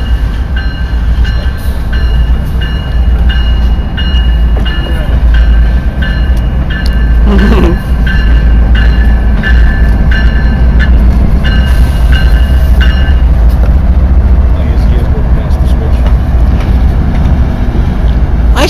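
A Norfolk Southern train moving through Belen, with a loud, continuous rumble of rolling railcars, rhythmic metallic clatter and squeal, and a brief tonal swell near the middle, while someone talks.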